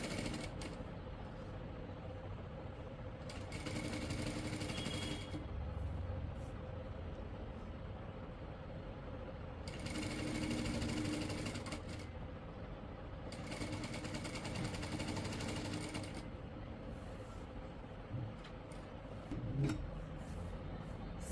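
A sewing machine stitches close along the strip of a kurti's band collar, running in three separate whirring bursts with quieter pauses between them, close up in a quiet room.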